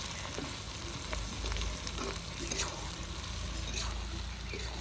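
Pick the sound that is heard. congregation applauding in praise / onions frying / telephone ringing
onions frying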